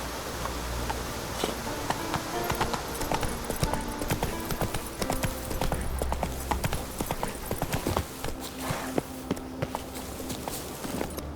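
Horse hooves clip-clop in a steady walking rhythm throughout, close and clear, with faint outdoor background noise.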